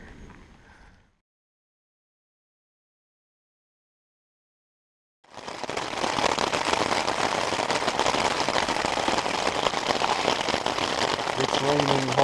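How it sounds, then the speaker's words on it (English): Steady rain falling on a creekside campsite on the Colorado Trail, a dense close hiss that starts after a few seconds of near silence and holds constant, with a faint voice briefly at the start. "It's raining harder."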